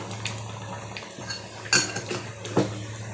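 Shukto curry being stirred in a pot just after ghee goes in: a spoon knocks and scrapes against the metal in a few sharp clinks over a steady low hum, nearby, with no talking.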